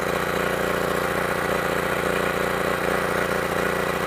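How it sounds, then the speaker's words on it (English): A generator engine fueled by biogas runs steadily close by, a constant loud mechanical drone with a fast, even chugging pulse that never lets up. "we also use our biogas to run clean smoke-free engines to generate electricity"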